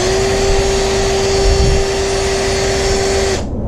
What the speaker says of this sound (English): Then you got to ream it some more. A little bit at a time.